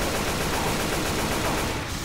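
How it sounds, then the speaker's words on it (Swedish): Dense, continuous gunfire from the zombie shooter Left 4 Dead 2, a steady loud wash of overlapping shots with no clear gaps, heard alone. "Du får ut ett par skott och se om den dör."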